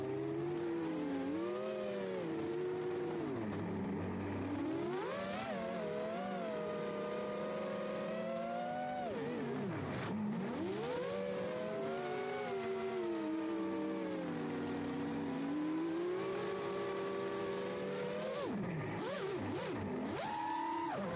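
FPV freestyle drone with angled motor mounts flying, a continuous high buzzing motor whine that swoops up and down in pitch as the throttle changes, steady and fairly loud throughout with no talk.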